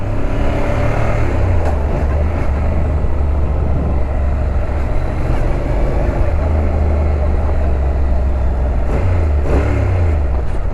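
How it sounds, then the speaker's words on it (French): A 2019 Honda NC 750 S motorcycle engine runs loud and close, a continuous low rumble that rises and falls in pitch as it revs, with wind noise over it and no talking. "il y a du son moteur sur cette moto"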